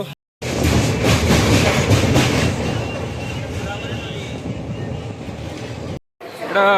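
A passenger train pulls into Guntur railway station in Andhra Pradesh, with a loud, continuous rolling rumble and rattling of carriages that fills nearly the whole stretch before cutting out.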